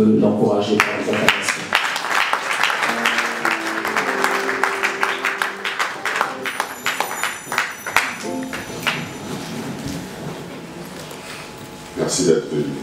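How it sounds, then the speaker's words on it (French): Audience applause at a life celebration: steady clapping that gradually thins out, with music playing underneath and someone speaking over the crowd near the end. "Lévi Jackson, est-ce qu'on peut l'encourager par les acclamations?"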